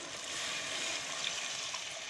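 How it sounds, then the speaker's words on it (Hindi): Water is poured into a pan of green chickpeas and potatoes, a steady hissing splash lasting about two seconds with no talking. "अब इसमें हम पानी डालेंगे।"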